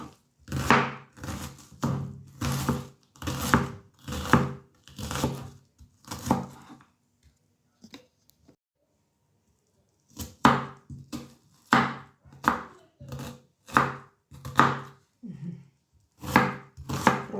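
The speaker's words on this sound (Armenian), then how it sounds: "հիմա սոխն եմ կտրատում" Onion being chopped with a knife on a board, a close, crisp series of evenly spaced chops in two runs separated by a short pause.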